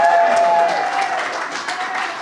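Brief applause from an audience for a family band at a Brown County variety show, a short burst of crowd clapping under a lingering musical tone that gradually eases off.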